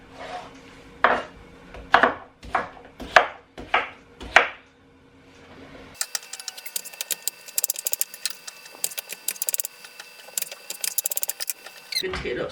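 A knife chops potatoes into chunks on a cutting board, six sharp, evenly spaced thuds close by, followed by a run of rapid, lighter clicking and tapping kitchen sounds.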